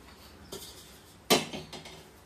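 A small cooking pot is handled in a home kitchen while dal is being prepared, giving a couple of sharp metallic clanks, the second louder with a short ringing tail, alone with no talk.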